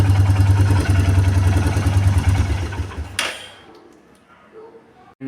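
Royal Enfield Meteor 350 motorcycle engine running at a steady idle, loud and close, then cutting off abruptly with a sharp clank, leaving faint clatter and quiet.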